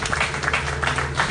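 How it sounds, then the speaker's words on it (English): Audience applause at a public address honouring a government representative of St. Kitts and Nevis, a steady wash of clapping from a crowd throughout, fairly loud and continuous with a faint voice underneath. "Give him a round of applause."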